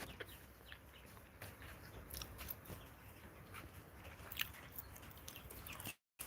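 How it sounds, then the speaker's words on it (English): Faint clucks and scattered pecking clicks come from young cockerel chickens, quiet against soft background noise, ending in a brief drop to silence. "These are your cockerel chickens."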